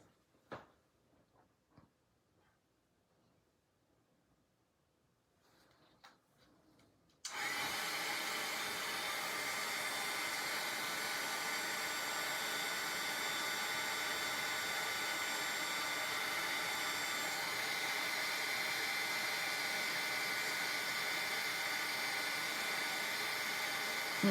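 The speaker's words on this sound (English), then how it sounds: "And we're going to heat emboss this." A heat tool switches on partway through and blows steadily and loudly while heat embossing a sea horse card, a constant rushing air roar lasting to the end after a few quiet handling clicks.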